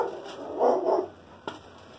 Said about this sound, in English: Savage dogs are out to kill somebody.